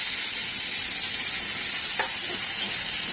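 Chopped onion and green chili frying in white oil with fennel seeds: a constant soft crackling sizzle, close by and even, broken once by a brief faint clink.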